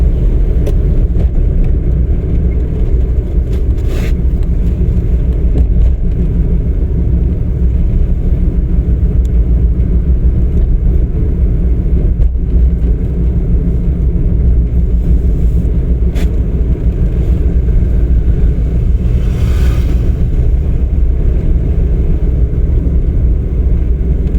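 A driving school car pulls away with a steady, close, low engine rumble that holds evenly throughout, with no voices over it.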